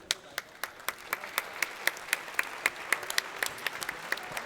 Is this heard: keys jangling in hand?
no